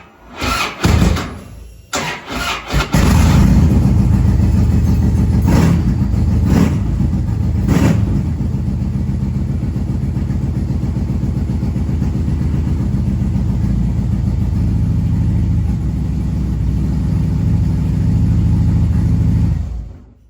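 2008–2013 Harley-Davidson Street Glide motorcycle cranking a few times, catching and settling into a loud, steady idle with a brief rev, close up and alone.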